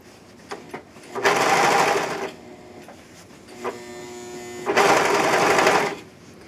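A serger sewing machine stitching, trimming and gathering two layers of fabric, heard as two loud bursts of fast, even mechanical whirring, each lasting about a second, with quiet gaps and small handling clicks between them.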